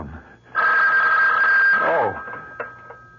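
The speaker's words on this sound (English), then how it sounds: "The phone." An old telephone bell rings once in a radio drama, a loud sustained metallic trill lasting about a second and a half, followed by a softer short ring as a voice speaks.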